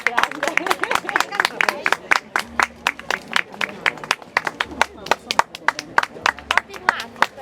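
A small group claps at the start of a fashion show of traditional Sardinian dress in Ottana: sharp, separate hand claps in an uneven, fairly quick rhythm, with voices talking between them.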